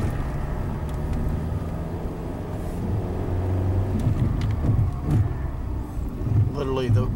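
A Ford Focus with rear-wheel ABS faults driving forward, its steady engine and road rumble running continuously close by, with a brief voice near the end.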